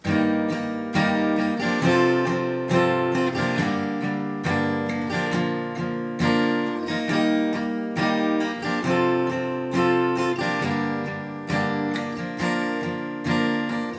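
Steady acoustic guitar strumming repeats a down-down-down-down-up pattern through chord changes, full and even with no voices.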